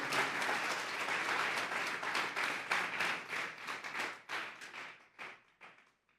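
A church congregation claps together during a sermon, sustained applause that thins into scattered claps and fades out.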